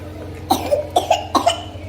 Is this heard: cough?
yes